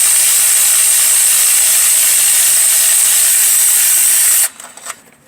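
Loud, sustained whine and rattle of an impact wrench backing out a bolt on a Ford 6.0 Powerstroke diesel, running steadily for about four seconds before cutting off, followed by a few faint metallic clinks.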